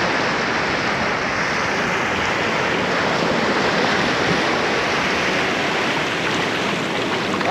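Surf rolls onto Cape Vidal beach in South Africa, a loud, continuous roar of breaking waves and rushing water with some wind, alone with no voices.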